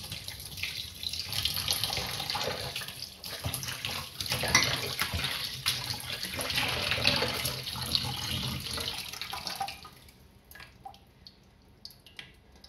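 Cut pieces of food are rinsed under a running kitchen tap, a continuous rush and splash of water with handling noises for about ten seconds before the flow stops, leaving a few faint drips and clinks.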